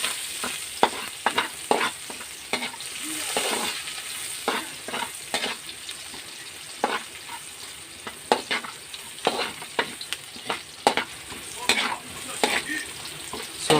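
Garlic and onions sauté in a pan while being stirred, a steady sizzle broken by repeated scraping strokes of a utensil against the pan, close and fairly loud, with no talk.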